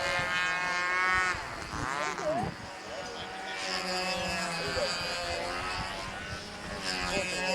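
Twin-engine model airplanes buzz overhead at a windy flying event, with droning engine tones that rise and fall in pitch as the planes pass, while people talk nearby.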